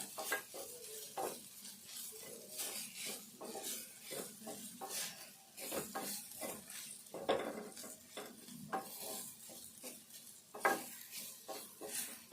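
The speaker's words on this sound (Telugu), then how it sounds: "ఇదంతా కలిసేటట్టు కలుపుకోవాలి." A spoon stirs a potato and wheat flour snack mixture with chili powder in a pan, giving repeated close scraping and clinking strokes over a soft sizzle, with no talking.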